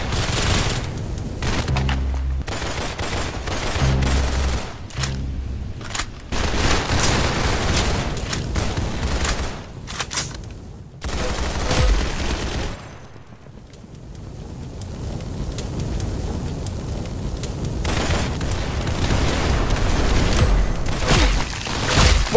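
Repeated bursts of gunfire from the Roblox shooter game Arsenal, loud and dense with booming impacts and short pauses, continuing through the whole stretch with no talking.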